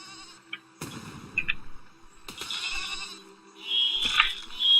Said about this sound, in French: Les moutons c'est des gros suicidaires,